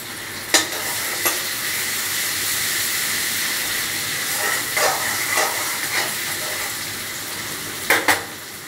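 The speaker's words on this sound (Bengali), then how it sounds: "আদা রসুনটা অল্প অল্প ভাজা হয়েছে" Garlic and ginger sizzle in hot oil for a tadka dal, a steady bright hiss with a few sharp scraping stirs scattered through it and a couple of quick stirs near the end.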